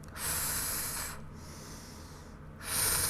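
Deliberate exercise breathing, a loud hissing inhale, a longer softer exhale, then another sharp inhale, close to the mic with no spoken words.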